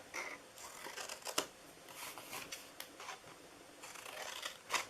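Scissors cut through gift box material in a quick series of close, crisp snips, with the soft rustle of paper between the cuts.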